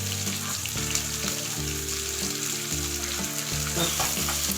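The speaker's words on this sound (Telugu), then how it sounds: "దీన్ని కొంచెంసేపు ఫ్రై చేయాలి" Ginger garlic paste and turmeric frying in oil with curry leaves for egg biryani, a steady close sizzle with a faint background hum, no voices.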